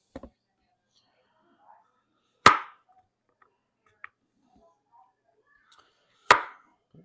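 A kitchen knife slices a carrot into rounds, giving two sharp, close chops several seconds apart, with a few faint ticks and small scrapes between them.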